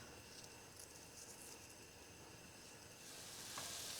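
Leeks sautéing in a pot with celery seed, crushed fennel seeds, white pepper and salt, a faint, even sizzle that swells slightly louder near the end.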